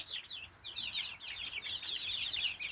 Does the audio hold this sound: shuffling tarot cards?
no